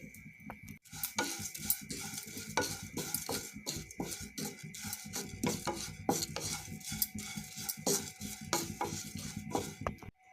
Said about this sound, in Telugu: ఇప్పుడు అటుకుల్ని ప్యాన్లో వేసి బాగా ఫ్రై చేసుకోవాలి